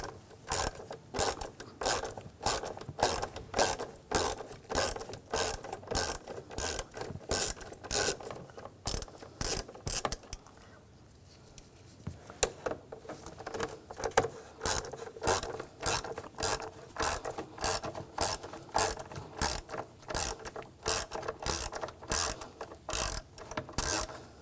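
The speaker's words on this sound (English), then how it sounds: "Up top, there's two screws. We're going to use the Hex 5mm socket." A ratchet with a 5mm hex socket backs screws out of a 2007-2013 BMW X5 3.0L inline-six engine during valve cover work: long runs of rapid, close clicking, briefly pausing midway before resuming.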